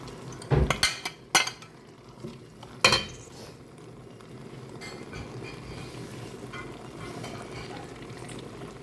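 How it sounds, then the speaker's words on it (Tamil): Marinated chicken for chicken angara dropped into a pan, a few loud clattering knocks of metal on the pan up front, then a steady low sizzle and stirring noise that keeps going, close by with no talking. "நம்ம மேரினேட் பண்ணி வச்சுருந்த சிக்கனை போடுறோம்."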